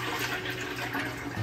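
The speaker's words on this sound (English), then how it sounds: "We're gonna get our plum juice right on in there." Plum juice poured into a pot for homemade plum jelly, a steady, continuous liquid splash and rushing pour running close and fairly loud for the whole moment, with no talk over it.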